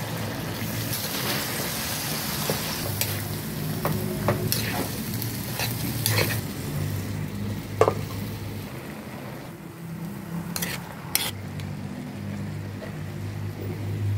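String beans stir-frying in a pan with pork mask, okra and oyster sauce, giving a close, steady sizzle with a low rumble beneath and irregular scraping and clattering stirs, without any talking.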